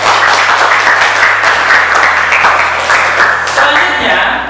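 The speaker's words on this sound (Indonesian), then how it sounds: "Tepuk tangan buat kita semua." Classroom applause, with students clapping together in a steady dense patter that stays loud throughout, carried over a low electrical hum, with some mixed-in chatter.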